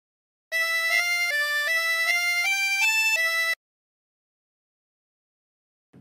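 A 24-hole tremolo harmonica plays a short phrase of God Rest Ye Merry Gentlemen, seven reedy, wavering held notes stepping up and down, loud and close, followed by silence.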